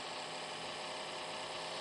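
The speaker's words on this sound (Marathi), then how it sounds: "ओ भाई ते जबर Lamborghini. खतरनाक गाडी रे" A Lamborghini idles in the mobile battle game BGMI, a steady low engine rumble with faint knocking vibration running continuously and evenly throughout.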